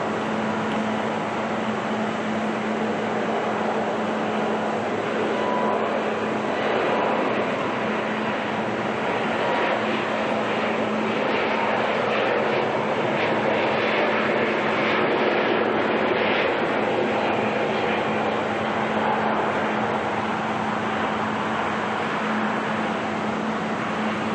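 A steady, loud roar of aircraft engines fills a broad ambience at night at Auckland Airport, with a constant low hum and no clear voices.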